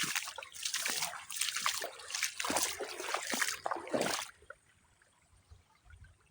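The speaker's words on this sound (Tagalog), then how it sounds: "Ang ilog ng Ilang-Ilang River." Water from the Ilang-Ilang River splashes and trickles close by in uneven surges for about four seconds, then drops off to near quiet.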